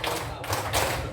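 Hand clapping in a classroom clapping exercise, a dense run of fast claps blurring together at steady loudness with no pauses, close and fairly loud.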